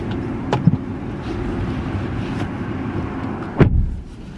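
Car trunk opened and loaded beside a vehicle outdoors: a few sharp clunks and thumps, one louder knock near the end, over a low steady rumble of engine and background noise.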